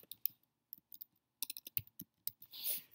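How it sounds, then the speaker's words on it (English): Soft, quick clicks of a name being typed on a computer keyboard, arriving in short irregular bursts with pauses between them, close and quiet, ending with a brief breathy rustle. "They're going to type their name."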